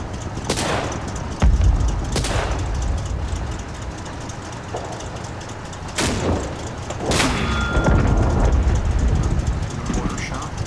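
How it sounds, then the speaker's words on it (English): Mortar fire in the Normandy war game Combat Mission: Battle for Normandy: several loud, sharp booming shots at irregular intervals over a steady rumbling battlefield background. "Mortar shot."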